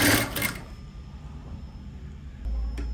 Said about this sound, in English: I will start to sew, back stitch, and then sew all the way till the end.